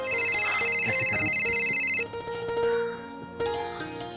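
A mobile phone plays its ringtone, a bright repeating electronic melody that sounds loud and close for about two seconds, then continues in a shifting, busier pattern with a few soft ticking sounds underneath.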